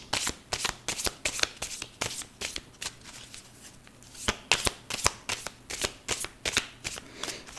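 Tarot cards being shuffled by hand make a close, crisp series of rapid riffling bursts, repeating in a steady rhythm of roughly two to three shuffles per second.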